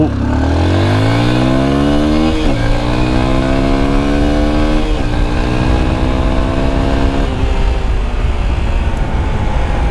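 A 2023 Honda XR150L motorcycle revs hard and accelerates close by, engine pitch climbing through gear changes, then bogging down after a hard clutch drop.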